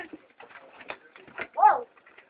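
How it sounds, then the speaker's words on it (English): Pigeons or doves coo on a pavement, a soft low coo rising clearly near the end among quieter scattered bird sounds, close by, with no talk in this stretch. "What's that noise in the background? Oh my gosh. Birds."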